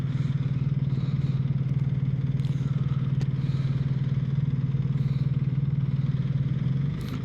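A Suzuki GSR 1300 motorcycle idles close by, its engine throbbing in an even, loud low pulse with faint clicks and rattles on top, steady for several seconds before easing off at the end.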